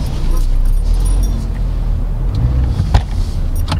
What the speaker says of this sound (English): I'm just tapping the throttle, so eager to move forward